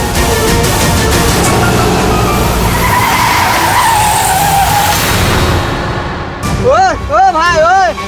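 A big car skidding hard to a stop on a road, a loud, sustained screech of tires lasting several seconds, followed by someone shouting angrily at the driver.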